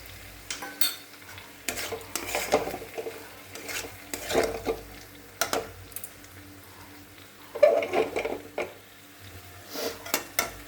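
Duck eggs stirred and sautéed in a pan with spiced potato curry, a spoon scraping and clinking irregularly against the pan over a faint sizzle, close up and alone.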